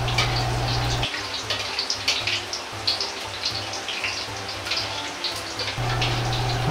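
Cashew nuts deep-frying slowly in low-temperature oil on a spider strainer, with a continuous close bubbling sizzle and fine crackle, a low hum dipping for a few seconds in the middle, no speech.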